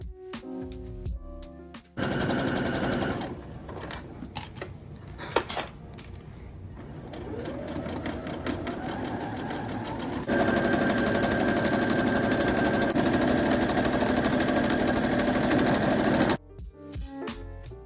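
A sewing machine stitches around the outer edge of joined denim bucket hat brims, running in steady continuous bursts with short pauses between passes, close and clear with no talk.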